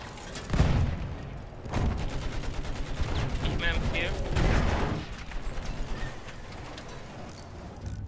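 Battlefield 1 gunfire rattles in sustained automatic bursts, with a heavy boom at the start and rapid rhythmic shots clattering for several seconds before easing into quieter background noise.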